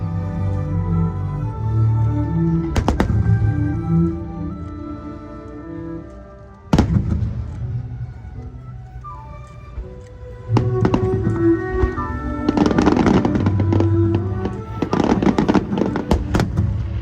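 At a National Day fireworks show with a drone display, fireworks burst in loud, booming volleys. Sharp cracks arrive in irregular clusters, and a commentator talks steadily underneath.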